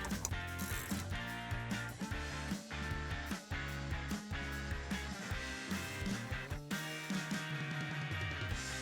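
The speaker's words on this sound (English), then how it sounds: "once it is loosened up, we can take the ratchet off and just unscrew it by hand" Ratchet clicking as a Torx screw on a Jeep Wrangler JL tail light is loosened, a dense run of close, steady mechanical ticks filling the whole stretch without talk.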